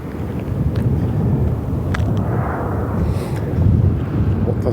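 Strong wind buffets a microphone outdoors in loud, rumbling gusts that swell and ease with a low roar and no talk.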